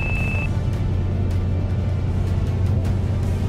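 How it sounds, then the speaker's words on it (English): Stall warning in a Pipistrel Velis Electro electric training aircraft during steep turns: a brief, steady high-pitched tone at the start, heard over the constant loud rumble of cabin and airflow noise. "So that noise you just heard in your eardrums was actually our stall warning."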